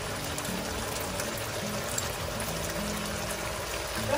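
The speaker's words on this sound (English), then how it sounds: "Now we can just pour in the cornstarch." A cornstarch slurry is poured into simmering mapo tofu in a pan, giving a steady liquid pour and bubbling sizzle throughout without pause.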